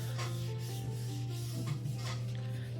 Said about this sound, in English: press it down. We want to rub it really well.